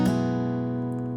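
A single strum of a D/A chord with a hammer-on on an acoustic guitar rings out sharply, then sustains and slowly decays, with no talk.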